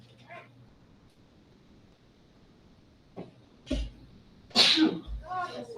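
A single sharp sneeze bursts out loudly near the end of a physiology lecture, preceded by a couple of softer sniffs or coughs in a quiet room.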